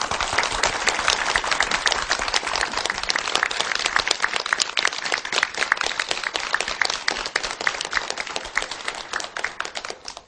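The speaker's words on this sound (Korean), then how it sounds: "박수로 따뜻하게 맞이하겠습니다" Audience giving a warm round of applause to welcome a speaker at a lecture, dense sustained clapping from a crowd, loud and even for about ten seconds with no speech.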